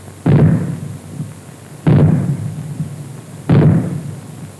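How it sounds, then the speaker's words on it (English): Three heavy explosive bangs from maroon warning rockets, evenly spaced, each a sharp deep boom followed by a rumbling decay. "you will hear 3 bangs in short succession. They will be sounded by means of maroons like this."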